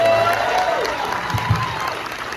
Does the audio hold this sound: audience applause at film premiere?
yes